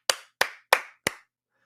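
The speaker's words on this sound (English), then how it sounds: "Let's give him a big round of applause." Four separate, evenly spaced hand claps, sharp and close, followed by silence; a single person clapping rather than a crowd.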